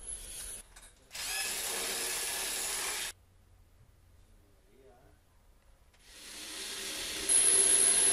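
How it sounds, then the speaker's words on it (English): Power drill driving into a wall to mount a metal bracket, two loud close bursts of whirring separated by a quiet pause with faint rattles. "We are attaching this bracket on the wall."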